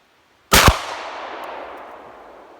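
A single loud gunshot strikes lead-filled coffee cans outdoors: one sharp, close crack followed by a long, fading ring that trails off over about two seconds.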